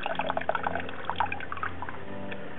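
Mung bean sprouts being rinsed under running water, a soft continuous splashing and trickling with small drips, close by and steady for a couple of seconds with no talking.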